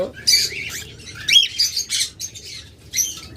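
A pair of grey cockatiels squawking at a bird market, giving a run of loud, harsh, close calls in short bursts with brief gaps between them.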